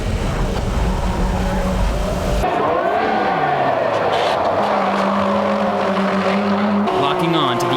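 Race cars, including an MCR GT-R, duel through the final lap of a JDM race, engines roaring loudly and steadily throughout, with a commentator talking over the whole stretch.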